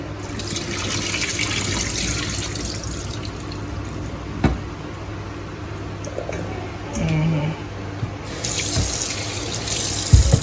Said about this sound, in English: they can let me wash the ackee now to put it in the water